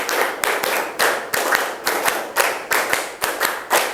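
A class claps hands together in a steady rhythm, with repeated close, sharp bursts of clapping separated by brief pauses, with no talking.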